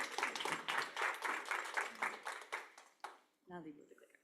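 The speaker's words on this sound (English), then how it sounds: "Everybody give Ross a round of applause." An audience at a climate summit showcase gives a round of applause, a moderately loud burst of clapping that tapers off, followed by a brief pause and a voice beginning to speak.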